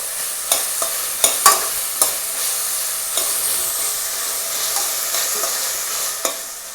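Sliced onions fried in a pan and stirred with a spoon, a bright steady sizzle broken by repeated close scraping clacks at an uneven pace, with no voices.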